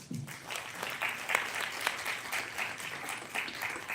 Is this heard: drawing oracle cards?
no